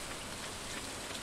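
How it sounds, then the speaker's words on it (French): Rain falls in the farming game Stardew Valley, a soft, even hiss of drops spread across the surface, steady and faint with no pauses and no voices. "Il pleut dans ma partie aussi, la chance."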